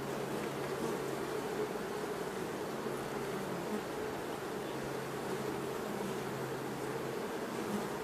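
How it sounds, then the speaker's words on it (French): Honey bees hum inside an opened hive during an inspection for queen cells, a dense, steady drone of many wings close by, continuous and unbroken with no speech. "Il y a trop d'abeilles."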